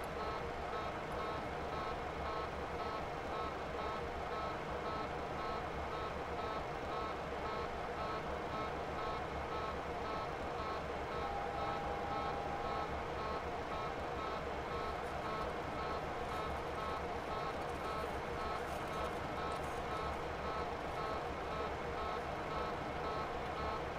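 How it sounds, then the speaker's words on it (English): A cockpit alarm in the IXEG Boeing 737 in X-Plane 11 beeps steadily and repeatedly throughout, a continuous pulsing tone over constant engine and airflow drone. "I don't know how to turn that stupid alarm off"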